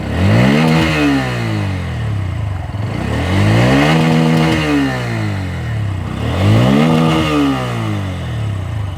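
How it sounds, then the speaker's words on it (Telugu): A Bajaj Pulsar N160 motorcycle revving close by, its exhaust note climbing and falling in three repeated throttle blips over a steady idle, loud and clear with no talk. "అండ్ ఎగ్జాస్ట్ నోట్ కూడా చాలా బ్యూటిఫుల్గా ఉంటుంది."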